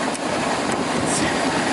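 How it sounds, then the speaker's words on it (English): Steady, dense broadband rushing hiss of vacuum noise from a running engine's air intake, continuous and fairly loud throughout, with no voices. "I definitely hear some vacuum coming from here, vacuum noises."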